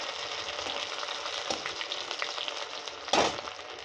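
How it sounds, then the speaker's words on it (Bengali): Cashews and raisins frying in a pan for a chutney, giving a steady close sizzle throughout with a louder burst of crackling near the end. "তো কাজু কিশমিশ ভাজা হয়ে গেছে,"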